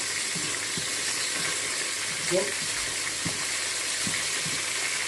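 Onions sizzling in hot oil in a pan, a steady broadband fry with a few light stirring knocks, fairly quiet and constant, with faint voice briefly in the background.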